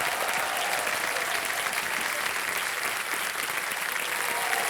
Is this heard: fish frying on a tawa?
no